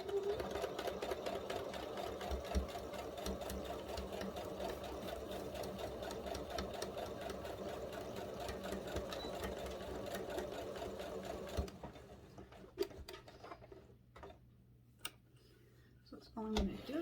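A sewing machine stitches fabric pieces together for a machine cover, whirring continuously and close for about twelve seconds before stopping, followed by a few scattered clicks and handling knocks.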